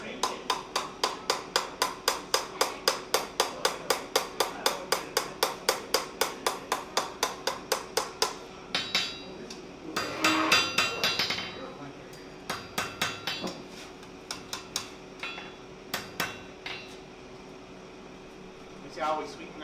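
A blacksmith strikes steel with steady, rapid hammer blows, ringing metallic hits in a regular rhythm, then sparser, uneven strikes, close and clear, with a faint hum under them and someone talking during the later part.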